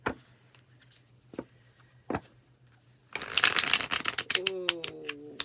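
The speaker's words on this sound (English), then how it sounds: "They want me to shuffle it." A deck of cards is shuffled: a few isolated taps give way to a dense, rapid fluttering riffle close by, with a voice speaking briefly near the end.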